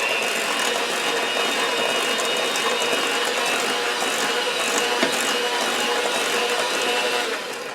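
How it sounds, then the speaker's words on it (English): An electric mixer whirs steadily while beating cake batter flavored with vanilla, a continuous close motor whine with rattling texture that holds evenly for several seconds before tapering slightly at the end. "turn the mixer back on"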